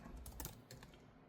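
Typing on an AliExpress-bought keyboard compatible with the Apple iPad Pro M4 Magic Keyboard, pogo-pin connected: soft, quiet clicking keystrokes in a quick irregular run, close up.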